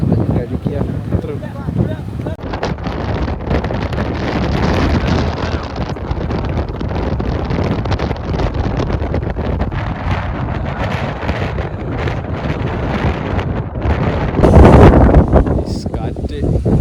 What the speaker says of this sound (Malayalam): കാറ്റ്, നല്ല കാറ്റ്.